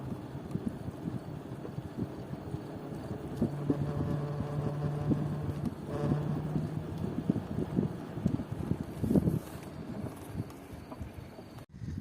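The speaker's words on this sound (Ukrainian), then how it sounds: "Їдемо по асфальту асфальтова дорога, електровелосипед фада." A FADA IDEA electric bicycle rolls along an asphalt road in the evening, giving steady wind rush and low tyre rumble with a faint, intermittent motor hum and no talk.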